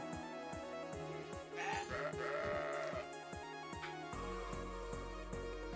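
Goats bleating in the video game CrossCode, several wavering cries rising over a rhythmic electronic game soundtrack with a steady beat, the bleats fairly close and overlapping in the middle of the passage.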